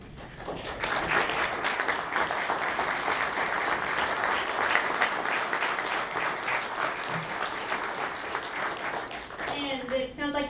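A mayoral candidate forum audience breaks into sustained applause after a candidate's closing words, steady dense clapping for about ten seconds before a voice begins speaking over the fading end.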